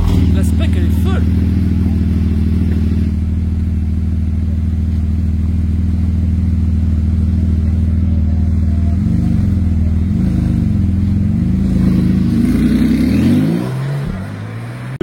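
A full-green Porsche 911 GT2 RS with green wheels idles and rolls past on a street in Cannes. Its deep, rumbling exhaust holds a steady throb, then swells with revs near the end before fading. Voices can be heard talking over the engine.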